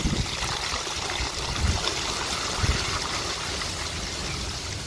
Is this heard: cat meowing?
no